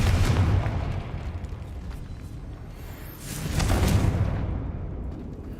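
Confringo fire spell blasts in the Hogwarts Legacy video game, with deep booming explosions swelling twice and rolling out over a continuous low rumble, loud and close, with no speech.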